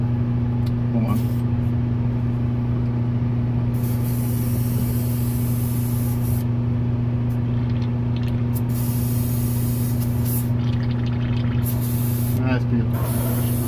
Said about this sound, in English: We've got GarageKits.us semi-transparent pure white in my airbrush.